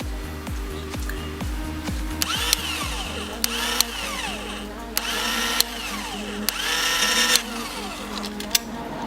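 A power drill grinds in short rhythmic bursts, then runs continuously with sharp metallic clicks and scraping as it drills out a rivet head on a die-cast metal toy car body.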